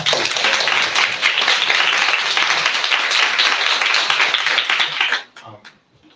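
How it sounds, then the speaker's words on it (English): A loud, dense round of applause from a conference audience at a health equity event, sustained clapping that cuts off abruptly near the end, leaving a few stray claps and a voice. "please, another round of applause"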